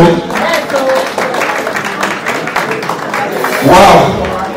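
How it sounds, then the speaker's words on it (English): Guests clap their hands together at a wedding anniversary and birthday thanksgiving celebration, a loud, dense run of claps blended with voices and music, swelling briefly near the end. "if you want to bless, clap your hands"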